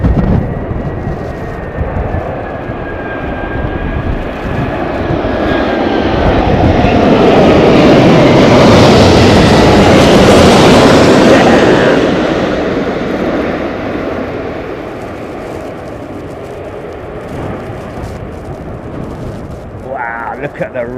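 A jet airliner comes in to land at Heathrow during Storm Nelson, its engine roar swelling as it passes overhead and then fading, loud and rumbling amid gusting wind.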